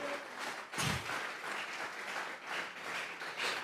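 Congregation applauding in a Spanish-speaking evangelical church, a soft, steady wash of many hands clapping at a distance, rising and falling slightly throughout, with a brief thump early on.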